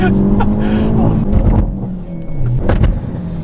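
A 2023 Hyundai Elantra N accelerates hard with wheel hop, its engine note rising and juddering in short bursts, heard close and loud from inside the car over talk.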